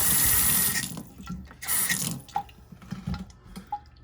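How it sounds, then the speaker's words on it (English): Water runs from the tap into a temporary basement sink in a kitchen under renovation, a close, loud rushing splash that cuts off and restarts in bursts, with a few bright drips between. "Put this thing in here, and got a running sink for now."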